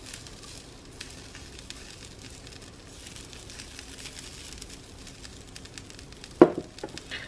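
Vegetables and onions frying on a Dash Mini Griddle, a quiet continuous sizzle with light crackle, followed near the end by a sharp brief clatter.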